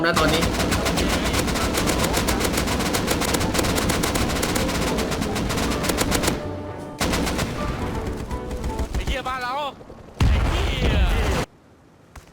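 Automatic gunfire in the game Rust bringing down a helicopter: a long, loud, rapid machine-gun stream for several seconds, then shorter bursts, a heavy impact and a cut to near quiet, with someone talking briefly.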